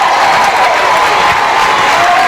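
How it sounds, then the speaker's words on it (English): Loud, dense crowd cheering and applause fill a high school boys' basketball gym against Archbold during a timeout, a steady roar with no break throughout. "This crowd is pumped."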